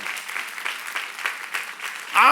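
Applause from a youth congregation at a church service, a steady patter of clapping across the room, with a brief voice or tonal sound cutting in loudly at the very end.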